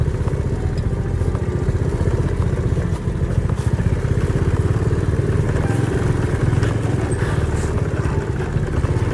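A motorcycle is ridden up a hill road near Huai Hing, its engine droning loud and close with a steady, rough chug that barely changes for the whole stretch.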